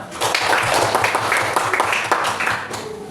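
A group claps together in a classroom-style session, a busy run of overlapping hand claps with some distinct sharper hits, fairly loud and near, continuing without pause and with no talking over it.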